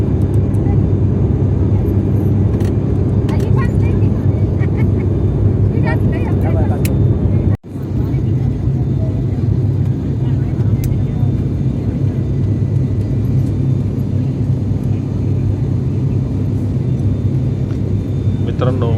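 Airliner cabin in flight, with a loud, steady engine drone and low rumble filling the whole stretch, one brief dropout partway through.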